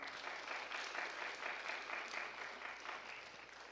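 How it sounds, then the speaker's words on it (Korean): A congregation at a Korean church service claps together in a soft, even wash of applause that holds steady at a moderate distance with no speech over it. "박수 한번 쳐드려."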